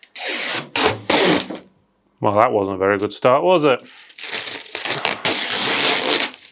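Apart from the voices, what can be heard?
peeling protective plastic strip off PC case glass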